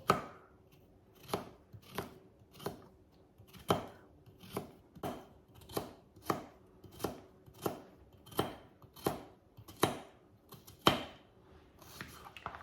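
A knife slices a cucumber against a cutting board for salad, giving about twenty crisp, separate chops at a steady, unhurried pace, close and fairly quiet with no talking.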